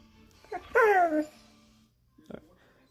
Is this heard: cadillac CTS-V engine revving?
no